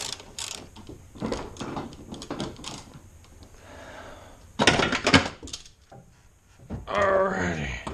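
A ratchet works strut tower nuts loose on a Mitsubishi Evo X, close rapid clicking bursts between clanks of tools and short bits of talk.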